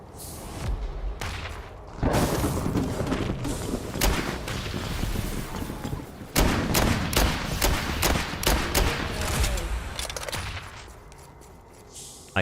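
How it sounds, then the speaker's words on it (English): Grenade explosions and gunfire rage in the video game Darklight Survivor, a dense, loud barrage of overlapping blasts and shots that swells after two seconds and runs almost without a break before easing near the end. "close enough so grenades can hit him"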